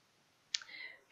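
A single sharp computer mouse click lands midway through a short, quiet stretch of 3D design work in Tinkercad, followed by a faint thin tone that trails off.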